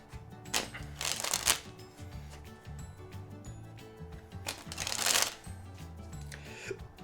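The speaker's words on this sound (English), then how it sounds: "I really like the sound of these riffles" A deck of playing cards is riffle shuffled up close, with two bursts of rapid fluttering riffles, each followed by softer squaring and bridging sounds, quiet and without talking.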